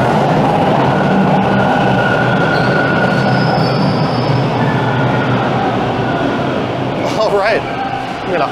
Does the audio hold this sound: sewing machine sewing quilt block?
no